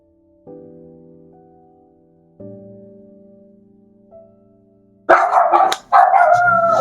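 A dog gives a few sustained whining howls with gaps between them, then two loud, sharp barks close by at the end.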